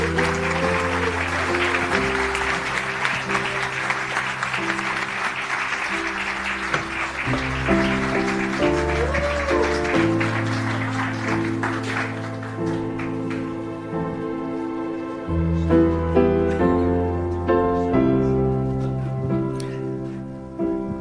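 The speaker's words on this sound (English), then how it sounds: "Give him a round of applause." An audience applauds to welcome a singer at an evening Noche de Las Memorias event, a broad steady clapping wash mixed with loud music that plays throughout, the clapping fading after about twelve seconds.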